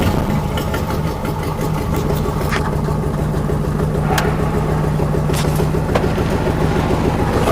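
A 1989 Dodge Dakota with a 5.9 V8 swap idles with a loud exhaust, a steady deep rumble that stays close and even throughout, with a few faint clicks and ticks over the top.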